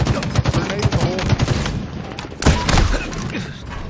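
A grenade is thrown during a video game firefight, with dense rapid gunfire and a heavy explosive burst about halfway through. The battle noise stays loud and busy throughout.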